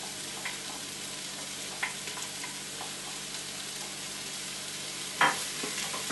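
Chopped onions frying quietly in a pot, with a steady soft sizzle and a few faint scrapes and clinks of stirring.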